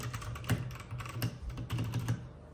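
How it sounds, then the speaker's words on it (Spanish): Steady typing on a budget mechanical keyboard with brown switches, soft muted clacks in an uneven rhythm, close up with no voices. "simplemente escucha el teclado."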